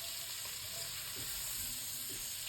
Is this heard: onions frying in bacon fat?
yes